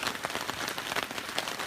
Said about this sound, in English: Hopefully it's just a quick shower and it'll pass.